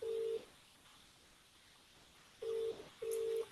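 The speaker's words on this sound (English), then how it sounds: "Is your phone ringing?" A phone rings on a call: three steady tonal beeps, one short burst at the start and two close together near the end, faint and with no talk.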